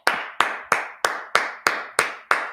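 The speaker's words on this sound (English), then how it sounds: "Let's clap it up for the Lord." Rhythmic clapping in unison during a church brotherhood class, eight sharp, evenly spaced claps about a third of a second apart, close and crisp with nothing else beneath them.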